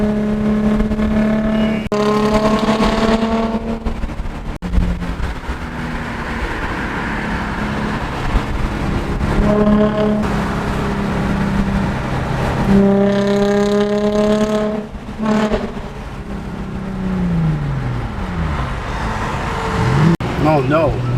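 A 2020 Kawasaki Z125 motorcycle speeding in traffic, its engine droning steadily and rising in pitch through repeated gear changes, with other vehicles around and people talking over the ride.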